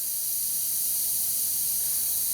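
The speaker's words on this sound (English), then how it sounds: "my fitting at the glow plug hole is leaking a little bit. You can probably hear it." Steady, high-pitched air hiss from a leaking fitting at the glow plug hole of a VW TDI PD diesel engine, constant and unbroken throughout, with faint low background noise.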